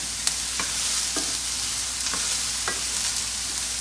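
Onions frying in a pan for instant ramen, a steady bright sizzle with a few soft stirring taps and scrapes scattered through, close and moderately loud with no voices.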